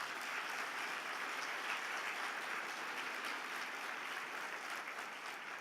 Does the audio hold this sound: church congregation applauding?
yes